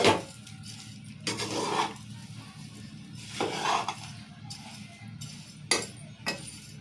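Flattened rice chivda being tossed with salt and lemon juice in a metal bowl, giving intermittent clinks and scraping stirs in short bursts, with someone talking softly between them.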